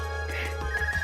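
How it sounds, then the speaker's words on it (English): An Arcus communicator from the Trails of Cold Steel video game rings in a short, steady electronic tone with soft repeating pulses, clear and alone without talk. "Is that your Arcus ringing? What's it doing ringing out here?"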